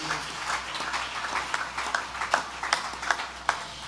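Sparse, scattered claps from a church audience during a preacher's sermon broadcast on radio, with individual sharp hand claps spaced irregularly over a faint background hiss and no talk.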